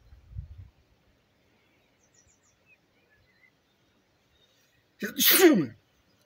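A single sharp sneeze bursts out near the end after a long near-silent stretch, close and loud, preceded by a brief low thump, in a setting where a fishing boat is being prepared.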